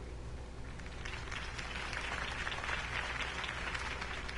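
Crowd applause at Harvey Dent's campaign rally in the Batman Telltale game, a steady wash of clapping that swells slightly toward the end, heard alone without voices.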